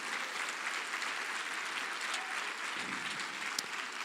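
Church congregation applauding during a sermon, a faint but continuous wash of many hands clapping, even and distant-sounding throughout, with no speech over it.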